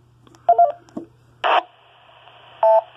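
A GMRS radio repeater produces a short burst of electronic tones, then a brief squelch noise, followed by a sustained hiss and a final tone burst, heard alone.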